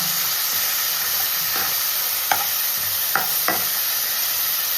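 Ginger garlic paste is stirred into mutton masala frying in a pan, a steady loud sizzle and hiss with a few soft scraping knocks of the spoon against the pan, close and continuous.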